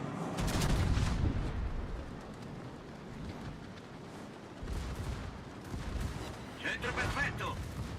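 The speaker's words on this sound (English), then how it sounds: "The obligatory exploding Nuremberg" Cruiser Nuremberg blowing up in the naval video game World of Warships, heavy booming blasts and rumbling gunfire rolling on for several seconds at moderate level, with a burst of crackling debris near the end.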